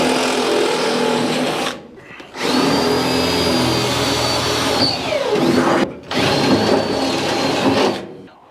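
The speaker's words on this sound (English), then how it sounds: "I just gotta drill this out and then drill another one above it" A power drill whirs loudly up close in long sustained bursts, pausing briefly twice, its pitch shifting as it bites into the firewall of a Chevy COE truck.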